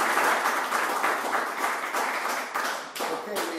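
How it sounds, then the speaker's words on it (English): A crowd applauds loudly and steadily at a candidates' meeting, dense clapping that fades near the end with a few last claps. "Let's give an applause to both of you gentlemen"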